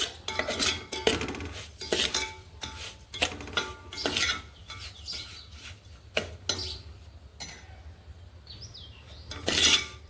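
Semolina (rava) roasts in ghee over a low flame while a metal spoon stirs and scrapes it around the pan, giving repeated irregular clinks and scraping strokes, close and moderately loud, with no talking.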